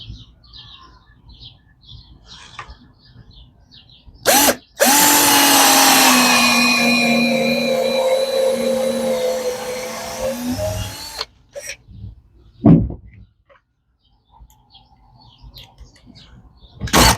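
A power drill drives screws into an old garden shed, one close, loud whirring run of about six seconds that slows in pitch as the screw seats, with birds chirping outdoors around it.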